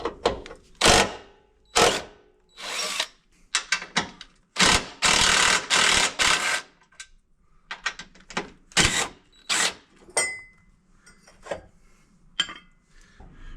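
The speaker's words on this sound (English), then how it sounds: "Total, we're removing about 7 bolts to get this bumper off" A wrench works 13 mm bolts off the front bumper of a 2002 Volkswagen EuroVan, close-up bursts of ratcheting clicks and metallic scraping in short irregular runs separated by quiet pauses.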